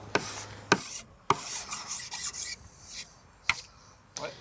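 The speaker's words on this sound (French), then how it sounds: "Avec notre lime, encore là, je vais faire une petite finition." A hand file works the edge of plastic laminate with short raspy strokes, several of them separated by sharp clicks and knocks, close and fairly loud, with no talking.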